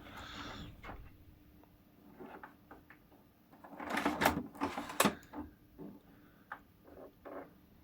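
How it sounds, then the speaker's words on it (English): A photographic slide-processing machine working through a few snagged slides, with quiet clicks, whirs and a louder burst of mechanical rattling in the middle, fairly faint overall. "there's a couple of slides still snagged in the machine. So let's go ahead and finish those."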